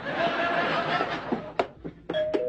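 A doorbell in a sitcom scene rings several times in quick succession, sharp chimes pressed repeatedly over studio audience laughter and chuckling.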